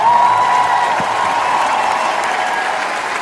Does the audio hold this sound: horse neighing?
no